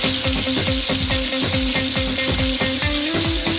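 Crushed garlic for spicy Swahili pilau sizzles and fries steadily in a pan, with a close, loud crackle and rhythmic scraping stir strokes throughout.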